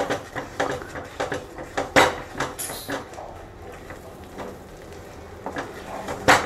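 A spoon scraping and knocking against a pan while banana dates halwa is stirred, giving a steady series of sharp clinks and scrapes at close range that slows briefly before picking up again.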